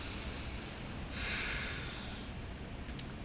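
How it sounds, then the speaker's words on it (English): A single deep breath drawn during a yoga flow, a soft airy rush lasting about a second, close and quiet, followed by a brief faint sniff. "let's take one more breath here"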